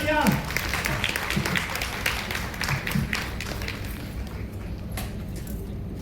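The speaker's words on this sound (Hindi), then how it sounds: "जोरदार तालियां।" An audience at an award ceremony for CSC BC Sakhi women gives a sustained burst of applause, a thick patter of clapping with occasional sharper taps that carries on evenly to the end.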